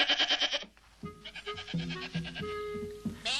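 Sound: goats bleating

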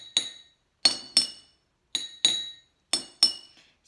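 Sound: striking water-filled glasses, different pitches

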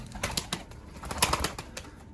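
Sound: pigeon cooing and flapping wings

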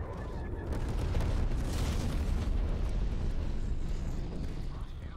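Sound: napalm explosion in a video game

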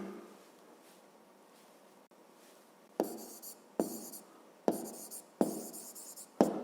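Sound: pen writing on paper

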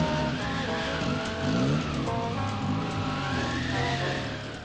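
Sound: cars stuck in snowdrifts, wheels skidding

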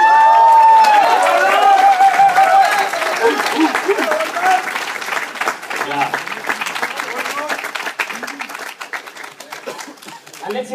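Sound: audience applause and cheering

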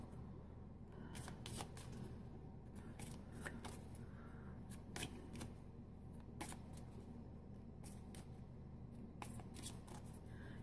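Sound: shuffling tarot cards

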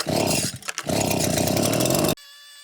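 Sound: petrol leaf blower blowing debris

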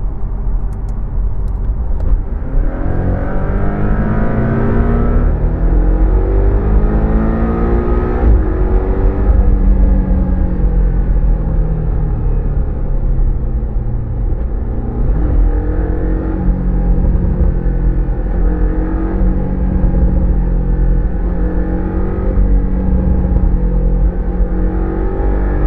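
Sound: Porsche 718 Cayman T sports exhaust revving, heard from outside

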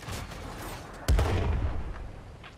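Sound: tank cannon shot in World of Tanks video game

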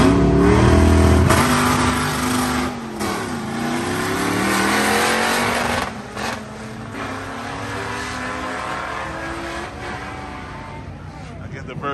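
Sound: classic Z car racing a Mustang at speedway

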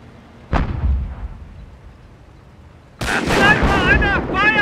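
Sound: heavy gunfire in video game Company of Heroes

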